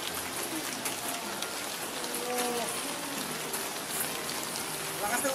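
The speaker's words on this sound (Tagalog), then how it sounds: "Lakas ng ulan mga kapams." Heavy rain pours down in a dense, even hiss of drops on surfaces, continuous throughout, with a voice faintly present beneath the downpour.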